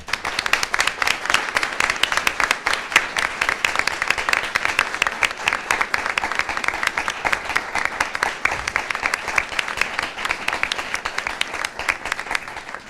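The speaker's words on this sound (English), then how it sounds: "let's give them a round of applause." An audience claps in sustained, dense applause at a women in agriculture and STEM panel discussion. The clapping holds steady and loud throughout, with no pause, talk or cheering standing out.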